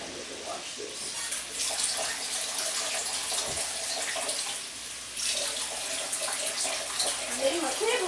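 Kitchen tap running while something is washed during home cooking, a steady close rush of water with small splashes and a short pause partway through, a faint voice heard beneath.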